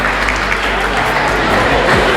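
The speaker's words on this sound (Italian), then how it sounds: "Accogliamoli con un grande applauso." Audience applause welcoming a committee member at the Miss Città Murata 2026 beauty pageant in Treviso, a dense, steady clapping from a crowd filling the whole moment, with faint voices mixed in.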